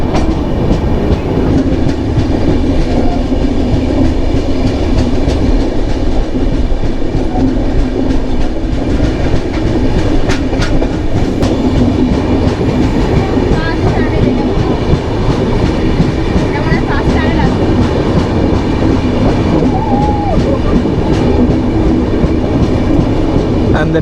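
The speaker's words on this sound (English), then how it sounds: "And the train enters the tunnel." The Sambaleswari Express train runs on rails and enters a tunnel, with a loud, steady rumble and continuous clickety-clack of wheels from close by that persists throughout.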